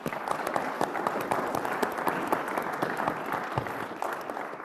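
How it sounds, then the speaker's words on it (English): Audience applause for the panelists at a lunar proving grounds workshop panel, a dense, steady round of many hands clapping that fills the room without a break. "Let's everybody give them a round of applause."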